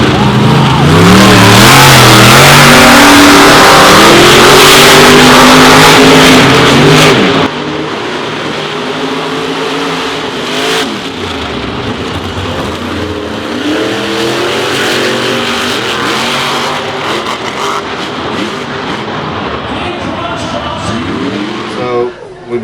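A monster truck engine revs loudly with sustained, rising roars, then continues at a lower, steady level as a voice talks over it.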